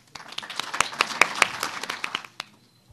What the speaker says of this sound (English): we would like to give a big round of applause to welcome our 2013 Shad Derby Queen candidates.